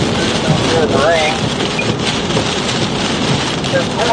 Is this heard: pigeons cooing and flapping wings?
no